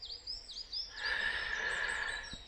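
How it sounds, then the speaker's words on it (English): Birds sing in quiet woods, with several bright, looping chirps and a sustained high whistle that carry at moderate distance, fairly faint and with no voices. "The birds are singing."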